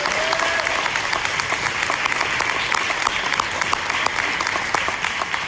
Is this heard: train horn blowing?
no